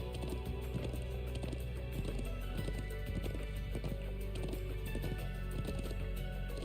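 Horse hooves clip-clop in a steady walking rhythm in the video game Trails of Cold Steel 2, set against a constant background music bed and game ambience.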